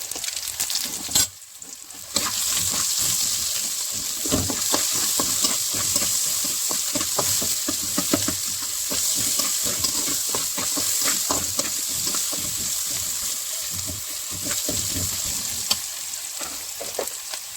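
Steady, close sizzling of onions frying in a pan, with frequent scraping and stirring clatter throughout; no voices.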